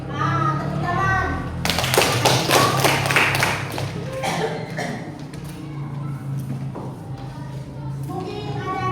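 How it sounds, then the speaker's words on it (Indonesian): Schoolchildren in a classroom clap hands in a quick rhythmic burst of sharp claps and taps lasting a few seconds, set between stretches of children's voices and chatter. "Tepuk tangan."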